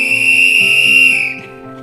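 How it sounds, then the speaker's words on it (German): A single long, loud referee-style whistle blast rings steadily for over a second at a wedding ceremony, then cuts off, leaving quiet room tone. "Ich habe mir gedacht, ich pfeife euer Eheleben an."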